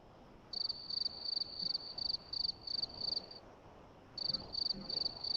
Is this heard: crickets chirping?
yes